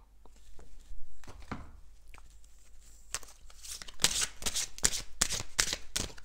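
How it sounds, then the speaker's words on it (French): Tarot-style healing cards being shuffled and drawn, a rapid series of crisp riffling and snapping bursts that grows louder and denser in the second half, close up with no talking. "Et je vais tirer une carte dans les forces de guérison."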